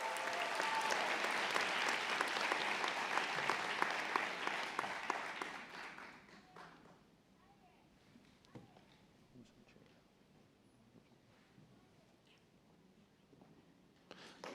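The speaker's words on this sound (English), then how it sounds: "Let's give her a round of applause as she's officially hooded." Audience applause at a convocation hooding ceremony, loud dense clapping for about six seconds that quickly fades to a quiet room with faint rustling and distant voices.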